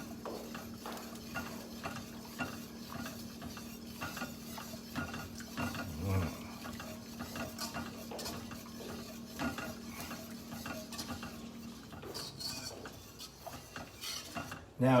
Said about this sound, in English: We'll stir that in.